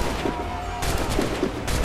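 Musket gunfire in a battle in the Assassin's Creed 3 video game, with loud volleys and crackling shots in two bursts over steady battle noise, and no talking.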